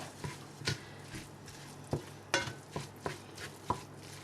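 Cheese, sticky rice and eggs being stirred together in a bowl or pan, with soft scraping and clacking strokes at an irregular pace, close and fairly quiet.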